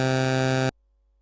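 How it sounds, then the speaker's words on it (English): PWM wave variant from a Sylenth1 synthesizer oscillator: one loud, bright, buzzy sustained note lasting about seven tenths of a second, then cut off cleanly into silence. "Then the next waveform is another variation of the PWM wave, which sounds like this."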